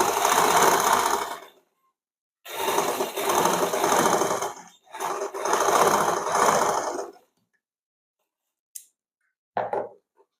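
A sewing machine stitches a lined blouse seam in three steady bursts of close, loud whirring separated by short pauses, followed by a few faint clicks near the end.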